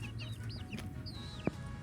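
Backyard chickens cluck softly at a distance, a few faint, rising and falling calls with one sharper squawk over low outdoor background noise.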